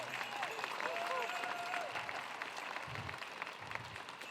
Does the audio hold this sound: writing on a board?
no